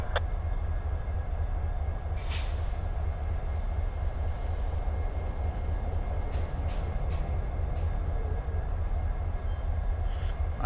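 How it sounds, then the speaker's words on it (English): A northbound CSX freight train rumbles steadily at a rail yard, a heavy continuous low drone with faint squeals and clanks as it slows toward a halt, no voices. "My northbound CSX slows to a halt."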